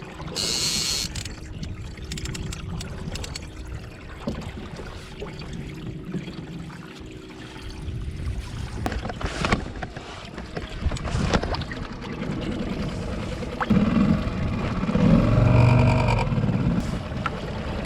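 A skiff's motor hums steadily under splashing water and wind while shark fishing at sea off Mission Bay and Point Loma, growing a bit louder toward the end.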